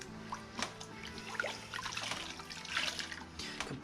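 A filter sponge from a Juwel Bioflow aquarium filter is rinsed under running water, a close steady splash and trickle with dripping and squeezing sounds throughout.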